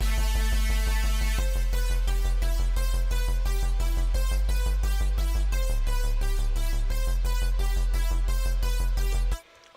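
A drum and bass synth melody with a deep bass line plays over steady, driving electronic beats, loud and continuous until it cuts off abruptly at the end.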